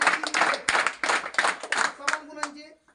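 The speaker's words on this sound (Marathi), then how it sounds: "सर्वांनी 3 टाळ्या या ठिकाणी स्वागत करायचंय." An audience at a school felicitation ceremony in Sangvi Patan claps together to welcome a student, several bursts of hand claps in quick succession, fading out at the end, with voices mixed in.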